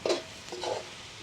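A spoon scrapes and stirs cubed potatoes and kohlrabi in a frying pan on a wood fire, two brief soft scraping strokes over a faint sizzle, close and quiet.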